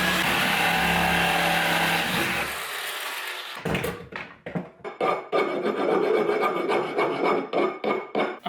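Threaded rod being cut down in a woodworking shop, a run of rapid, rhythmic rasping strokes close up that follows a steady background whir which cuts out partway through.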